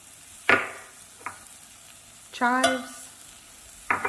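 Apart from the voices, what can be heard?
stirring herbs into creamy garlic mushroom sauce in a pan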